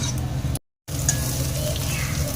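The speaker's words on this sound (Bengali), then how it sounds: "পেঁয়াজটাকে দিয়েও একটু ভেজে নিতে হবে।" Chopped onion fries with curry leaves in a hot pan, a steady close sizzle with a brief dropout partway through before the crackling resumes.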